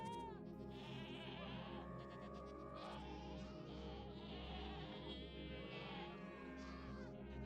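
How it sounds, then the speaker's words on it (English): Goats bleat in Minecraft on an automatic goat-dehorning farm, with thin, wavering calls rising now and then over a steady, dense bed of continuous game sound, all fairly faint. "This is gonna be a goat dehorning farm, so remove their horns."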